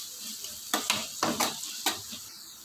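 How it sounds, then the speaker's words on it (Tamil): Onions sautéing in a pan for egg thokku, with salt added, giving a low steady sizzle broken by several sharp stirring scrapes at irregular intervals, close and moderately quiet. "வெங்காயம் நல்லா வதங்கி வரட்டும்"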